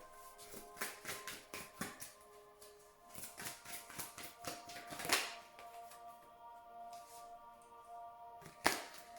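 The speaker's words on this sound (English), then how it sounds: "Please think of your question while I shuffle the cards." Tarot cards being shuffled by hand, with a run of quick crisp riffling taps and flicks, fairly quiet and close, with a few sharper snaps near the end and no talking.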